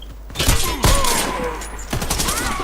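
Gunfire in a team shooter video game: a few loud, sharp shots cut through continuous game ambience, with faint chirping tones and distant background noise around them.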